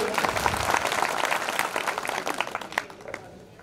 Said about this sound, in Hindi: अगर आप लोगों को ये बात अच्छी लगी तो ताली बजाइएगा इनके लिए